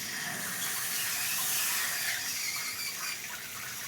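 Water runs steadily in a shower and drains away, a close, continuous hiss and splash that swells slightly in the middle and eases a little toward the end.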